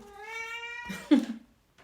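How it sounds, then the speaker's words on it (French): A house cat gives one clear, drawn-out meow that rises into a sharper, louder cry at the end. It is close and alone in an otherwise quiet room, followed by a tiny faint sound. "Mais oui, le chat aussi dit oui, Aslan."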